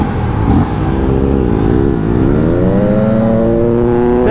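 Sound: sport motorcycle accelerating at high speed

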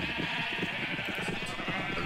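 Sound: sheep bleating in Minecraft video game

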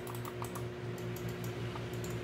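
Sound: Razer DeathAdder Essential gaming mouse button clicks

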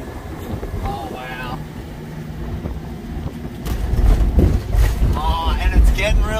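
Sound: wind

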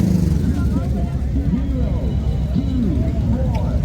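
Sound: small jeep driving out of a car show

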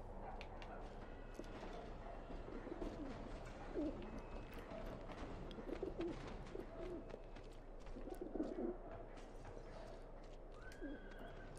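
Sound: pigeons cooing in the video game Alice Madness Returns

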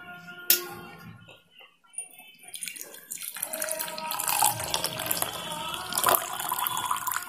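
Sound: straining boiled fennel and mustard seed water

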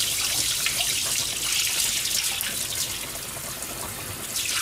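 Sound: rinsing koji grains off food with tap water

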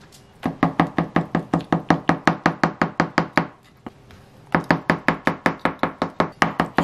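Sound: knife finely chopping peeled boiled eggs

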